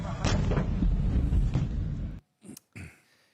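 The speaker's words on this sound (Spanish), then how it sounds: "justo cuando sobrevino una explosión que todavía resuena" The explosion in Beirut, Lebanon comes through as a loud, deep, rumbling blast lasting about two seconds, then cuts off abruptly, leaving a couple of brief faint sounds.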